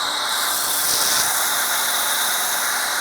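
A GreenWorks pressure washer runs with a nozzle fitted, giving a steady loud hissing spray with a high whine. The sound is constant throughout with no talking.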